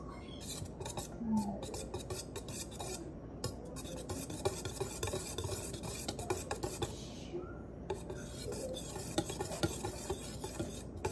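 Leche flan egg mixture shaken gently in a container, giving a soft, continuous sloshing and rubbing texture at low volume, close by and without talk.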